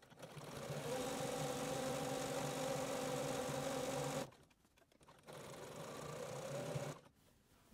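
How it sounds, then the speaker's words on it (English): A sewing machine stitching a zigzag seam on a surgical cap runs in a steady, loud whirring burst for about four seconds, stops briefly, then whirs again in a second run before cutting off. "I'm going to set my machine to do a zigzag stitch"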